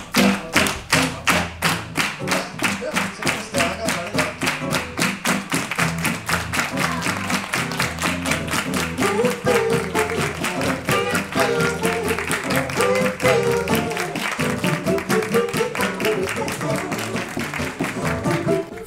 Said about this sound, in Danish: Og så klapper bare derude, så jeg klapper.